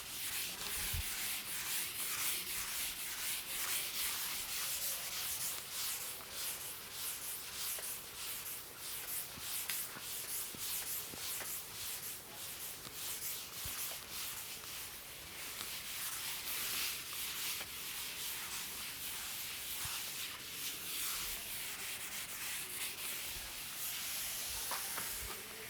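Writing is rubbed off a classroom board in continuous, faint scratchy strokes, a soft hissing rub that repeats steadily and quietly with no voices over it.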